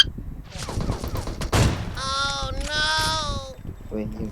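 In PUBG Mobile, several bursts of gunfire crack out rapidly at the start, then one loud shot lands, and a sustained tonal sound follows. No one speaks.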